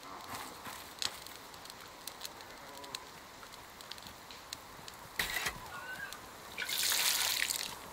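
Watering a crop in the survival game Icarus: soft trickles and drips of water, then a brighter splashing pour near the end, faint against quiet ambience with a few scattered clicks.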